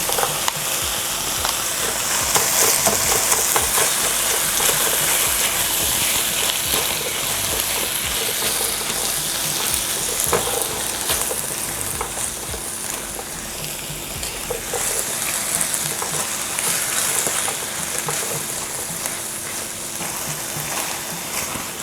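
Chicken, vegetables and onion stir frying in a pan give a steady, bright hiss of sizzling with faint scraping and stirring noises running throughout, close and continuous, with no talk.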